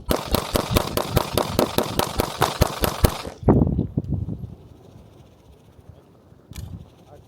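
A string of sharp gunshots at an outdoor shooting range, about a dozen evenly spaced rapid shots, then a louder closing blast and a quieter stretch with one more distant pop.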